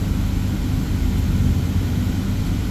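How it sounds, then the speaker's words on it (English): A mini bus rolling forward slowly at about 5 mph for a brake test, heard from inside as a steady, loud, low engine and road rumble with no distinct events. "I'm going to do the brake test pulling forward approximately 5 miles per hour"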